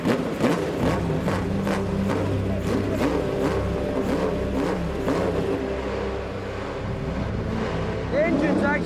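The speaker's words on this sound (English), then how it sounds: "The engine's actually quite smooth, isn't it, for such an old engine?" The Climax engine of a Lotus 25 racing car starts and revs, a loud rasping drone that rises and falls close by, with people talking over it.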